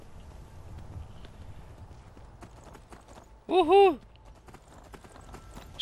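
Horse galloping in the Skyrim video game: faint, steady clip-clop hoofbeats run throughout, broken midway by a man's short, loud exclamation.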